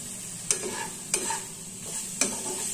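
Turmeric and chili powder stirred and fried in a pan, with a continuous sizzle broken by three sharp scraping strokes of a spoon, about one every second, close and clear, with no speech.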